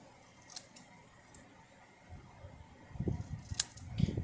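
Scissors snipping paper for a craft ornament, a few light, sharp snips spread across the stretch, joined later by soft rustling and handling noise, close and quiet.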